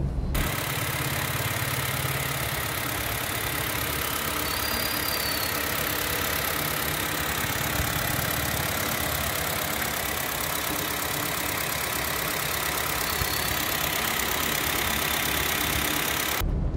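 Car engine idling steadily right after a spark plug replacement, a constant low rumbling drone heard close and unbroken throughout, with no speech.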